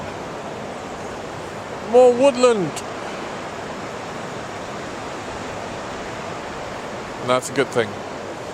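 Steady broadband rush of a stream at river level in Peak District woodland, constant and fairly close, with someone speaking briefly twice over it.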